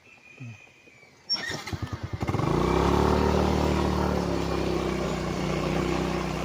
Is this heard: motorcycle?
yes